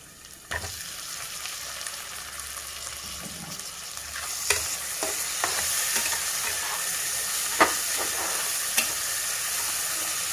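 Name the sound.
tomatoes frying with ginger paste in pan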